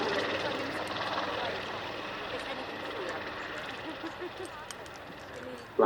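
A Leonardo Wildcat HMA.2 Royal Navy helicopter flying at the RIAT 2024 airshow, a steady rotor and engine roar moving away, with a commentator's voice over a loudspeaker throughout.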